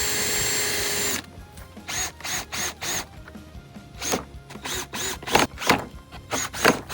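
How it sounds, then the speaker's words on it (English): A power drill runs briefly, a loud high whine at first, then rattly clicks and zipping bursts follow as plastic door plugs on a 2014 Chevy Silverado door are worked out, close by with no talking. "But I just drilled that one out."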